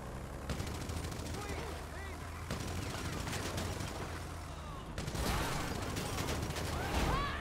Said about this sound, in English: You can shoot the gun on top.